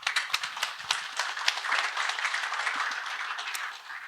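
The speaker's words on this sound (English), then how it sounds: "Let's applause." An audience at a Zabbix technology conference applauds, with dense steady clapping from a room of people that fades slightly toward the end.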